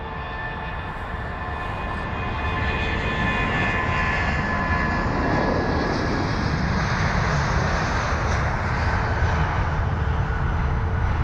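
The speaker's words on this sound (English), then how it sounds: "this A320ceo is on departure" An Airbus A320ceo airliner departing London Heathrow, its jet engines a loud, sustained roar that swells after the first couple of seconds and holds steady, with no talking.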